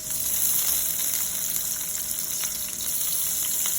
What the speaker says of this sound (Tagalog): Nilalagay ko na ang ating sibuyas.